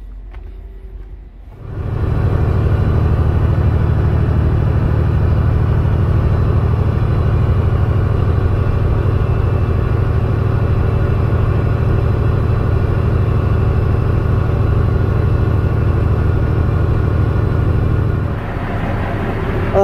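A broken-down diesel truck engine cranks and catches after a quiet start, then settles into a loud, steady low rumbling idle that holds before easing slightly near the end.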